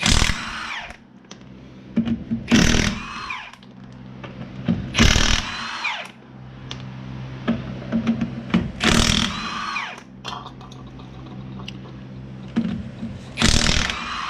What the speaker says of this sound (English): So you got your 19mm, 3/4 will also work. Got your impact.